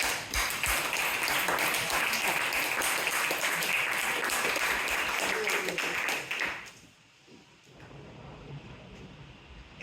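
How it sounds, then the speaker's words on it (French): Applause for the director at a French-language presentation: dense, steady clapping from an audience for about six and a half seconds, then fading to a low murmur of room noise. "on va vraiment une chose mettre d'applaudissements pour la directrice."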